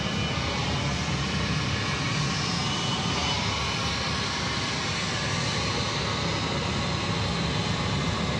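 Steady, broadband engine roar from a jet airliner at Atlanta Hartsfield-Jackson airport, a continuous moderately loud rumble with no talk.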